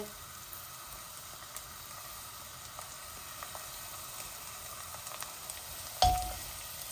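Onions sizzling in a pan while cooking a Bangladeshi-style mutton and potato bhuna, a steady faint crackling fry throughout with a brief louder burst near the end.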